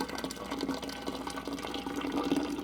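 Iced tea poured into a glass pitcher, a steady gurgling stream of liquid filling the vessel with a rising tone, heard up close and alone.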